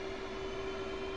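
An F/A-18C Hornet's jet engines in a DCS flight simulation, spooled up for a carrier takeoff, give a steady, loud, close roar with a constant whining tone throughout.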